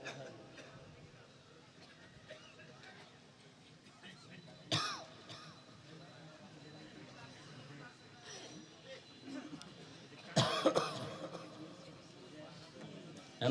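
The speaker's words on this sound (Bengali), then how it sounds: "এই কাশিটা বাড়লো কেন?" A man at a religious sermon gathering clears his throat and coughs, with a couple of harsh bursts standing out against low room noise and murmuring voices.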